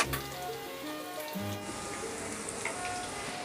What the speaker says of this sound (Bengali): পেঁয়াজিগুলোকে চ্যাপটা চ্যাপটা শেপে তো মোটামুটি 1 পিস একটু ভেজে নিয়ে লাল করে নিয়ে